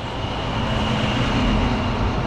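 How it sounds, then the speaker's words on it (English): A loud truck passing on a road in Elizabethton, Tennessee, a dense, rumbling roar of engine and tire noise that stays heavy and close through the whole stretch, with no voices over it. "every time I try to start a video, there's like a loud truck goes by"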